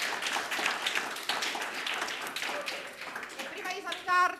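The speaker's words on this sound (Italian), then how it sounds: "Un applauso." Studio audience clapping for the Pescara Esordienti 2005 youth football team on a television programme, a dense patter of hands mixed with children's voices and chatter, ending in a brief louder tonal burst.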